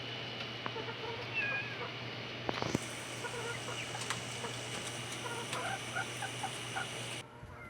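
Chickens being fed in the morning cluck and call softly at a quiet, moderate distance, their scattered calls over a low, steady background hum.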